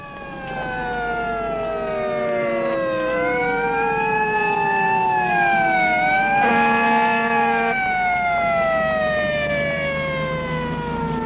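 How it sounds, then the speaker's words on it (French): Several fire engine sirens wail at once with overlapping rising and falling tones, loud and continuous, the pitch sliding as the trucks pass by close, with a low vehicle rumble beneath. "je regardais les pompiers"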